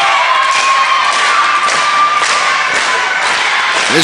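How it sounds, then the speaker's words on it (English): An independent wrestling crowd cheering and shouting during a match, a loud continuous roar of voices with scattered thuds and yells, steady throughout. "This crowd is feeling it now."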